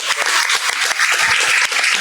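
An audience at a climate-change science talk applauds, giving a brief, dense patter of many hands clapping at moderate volume throughout.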